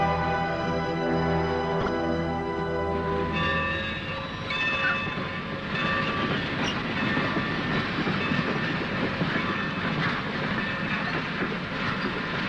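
A steam-era passenger train in a Western setting sets off, its long horn blasts giving way to steady rolling clickety-clack and rumble of railroad cars, loud and continuous with no talk.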